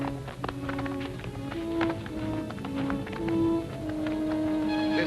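Horses' hooves clip-clop in a quick, uneven patter during a dismount in a historical battle drama, heard under music and a busy outdoor background, steady and fairly loud throughout.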